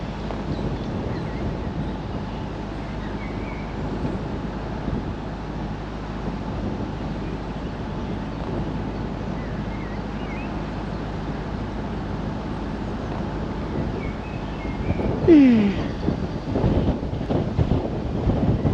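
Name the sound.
wind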